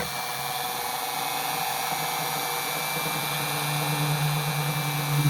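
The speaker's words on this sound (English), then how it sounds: "you ready to see whether or not we can drill through a shell?" A small power drill bores into a seashell set in resin, a steady high whirring drone that holds evenly for several seconds and swells slightly near the end, with no talking.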